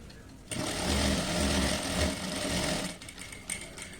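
A sewing machine stitches a puff sleeve frock, one close, steady, rapid whirring run of about two and a half seconds, then stopping with a few faint clicks.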